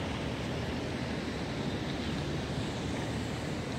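Surf at Boqueirão beach in Praia Grande rolls in as a steady, loud wash of waves, blended with gusty wind buffeting the microphone throughout, with no voices.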